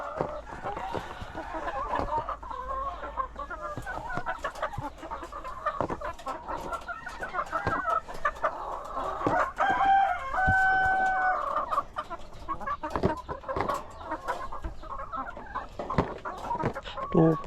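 Chickens cluck steadily close by through the whole stretch while a rooster crows, with faint voices in the background of a backyard flock of laying hens.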